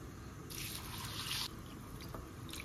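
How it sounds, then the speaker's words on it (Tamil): Thick poha, or flattened rice, is washed in water in a bowl, making soft, close squishing and dripping sounds that are quiet and steady, with no talk. "ஃபர்ஸ்ட் இதை 2 தடவை நல்லா வாஷ் பண்ணிக்கலாம்."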